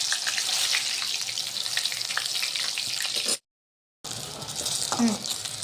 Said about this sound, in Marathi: आता ही वांगी मी तुम्हाला तळून दाखवते.